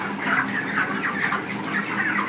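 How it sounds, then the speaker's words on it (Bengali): Live chickens crowded together for sale, a dense continuous murmur of clucking and chatter from many birds at once, steady and fairly loud. "এই যে দেখো, এই সাইডের মুরগিগুলো বড়,"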